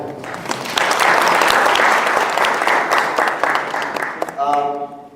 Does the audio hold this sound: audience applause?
yes